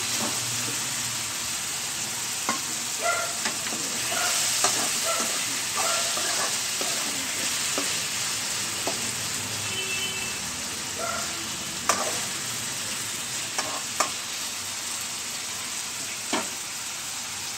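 Ridge gourd with tamarind sautés in a pan, a continuous close frying hiss broken by scattered clicks and stirring scrapes of a spatula, no voices.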